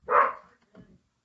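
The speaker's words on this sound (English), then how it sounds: "He's muted because Kenny's barking" A dog gives one short, sharp bark followed by a fainter, muffled second sound, close and alone, in an otherwise quiet room.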